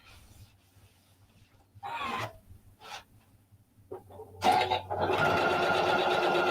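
A sewing machine stitching patchwork fabric pumpkins, short bursts of motor whir separated by pauses, ending in a longer continuous run, close and moderately loud with no talking.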